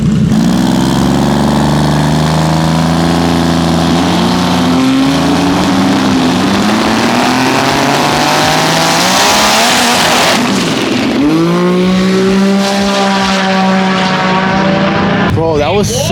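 Nissan GT-R with a loud side-exit exhaust revving at a high-horsepower drag racing event, engine note rising and falling in strong harmonic sweeps right beside the listener, with voices talking over it.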